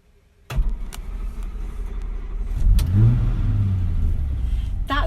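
A 1950s Humber Super Snipe Series 2 cranks and fires up, then its engine idles and revs with a deep, rising rumble, heard close and fairly loud with a few sharp clicks.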